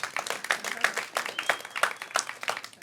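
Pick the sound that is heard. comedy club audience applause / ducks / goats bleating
comedy club audience applause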